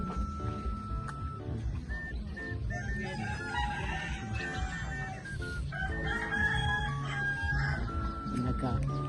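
A rooster crows loudly and repeatedly among clucking chickens at a village home in rural Laos without electricity, with someone talking underneath throughout.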